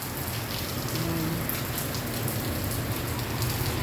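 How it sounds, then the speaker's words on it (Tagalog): Rain falls outside a small shop facing a highway, a dense, steady patter on surfaces with a constant hissing wash, close and even throughout. "Umuulan dito sa amin."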